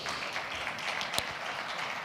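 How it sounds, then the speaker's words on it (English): Audience applause at the Jamaica Productivity Centre event after the launch of the 2026 Productivity Innovation Competition, a steady wash of distant clapping through the whole stretch, fairly faint, with one sharper clap standing out partway through. "Another round of applause for that, please."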